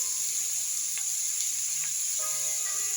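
Chowmein noodles seasoned with salt sizzle steadily in a hot pan as they are stirred, a continuous bright frying hiss close up with a few faint scrapes and clicks.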